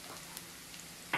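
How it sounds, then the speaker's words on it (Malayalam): Sliced onions cook in coconut oil for a tomato fry, a soft, even, rain-like hiss of frying heard briefly and close, with no voices. "സവോള ഏകദേശം മൂത്ത് വരുന്നുണ്ട്"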